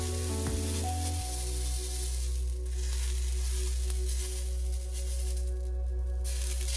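A homemade vegetarian burger patty sears in a hot pan with a continuous, close, steady sizzle, a low tonal hum running beneath it.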